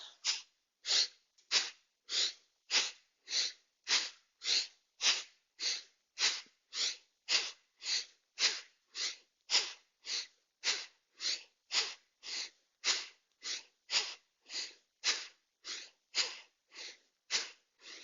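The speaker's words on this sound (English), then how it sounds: "Really exhale, it's kind of a vigorous exhale out" A person doing yoga breathing pushes out vigorous, forceful exhalations through the nose, a steady train of about thirty close, sharp, hissing puffs at a quick even rhythm with no talking.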